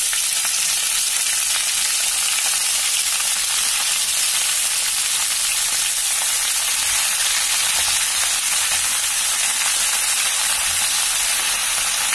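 A steady, crackling sizzle of potatoes frying in hot oil in a pan, continuous and close, with no voices.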